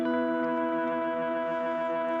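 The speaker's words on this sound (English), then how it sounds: "hear what that sounds like, the ring modulator on the reverb" Guitar played through a Boss GT-1000 with ring modulation applied to the reverb, giving a sustained, shimmering metallic tone with many ringing inharmonic overtones that holds steady and alone for about two seconds.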